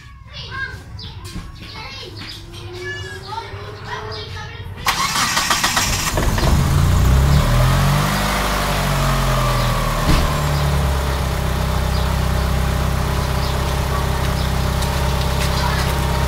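A car's EFI engine cranks and starts about five seconds in, then settles into a steady, close running idle after a short stretch of quiet talk.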